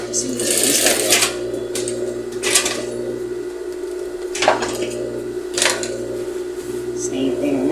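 A sewing machine stitches straight across the quilted lines of a puffer coat in several short, fast rattling bursts separated by pauses, over a steady low motor hum.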